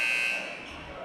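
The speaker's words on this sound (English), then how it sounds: "Buzzer's going to go off." A basketball arena buzzer at a district tournament semifinal sounds a loud, steady electronic tone marking the end of a timeout, then fades slightly while crowd noise carries on beneath.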